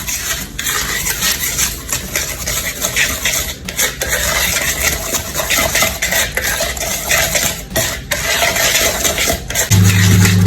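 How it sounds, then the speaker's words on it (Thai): Dry cupcake ingredients (cocoa powder, flour, sugar, baking soda, baking powder and a little salt) being mixed together in a bowl, producing a continuous close scraping and stirring with repeated strokes, ending over a low hum. "เราจะผสมส่วนของของแห้งเข้าด้วยกันก่อนค่ะ"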